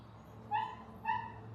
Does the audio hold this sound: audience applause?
no